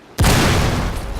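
A heavy explosion in a battle royale video game booms in suddenly after a brief quiet lead-in, then sustains a loud, dense roar of blast noise.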